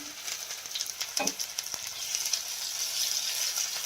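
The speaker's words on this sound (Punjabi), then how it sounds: "ਤੇਲ ਗਰਮ ਹੋ ਗਿਆ ਆਪਣਾ ਹੁਣ ਇਹਦੇ ਵਿੱਚ ਲਸਣ ਅਦਰਕ ਦਾ ਪੇਸਟ ਪਾ ਦੇਣਾ" Garlic-ginger paste sizzling and frying in hot oil over a low flame while red chilli pickle is being made, a steady close crackle with a brief sharper spatter near the start.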